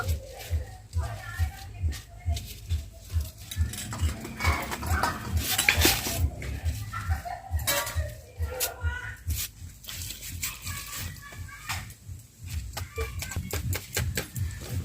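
Cut pointed gourds (potol) being washed in water in a bowl, with repeated clinks, knocks and sloshing from handling. A voice talks at times underneath.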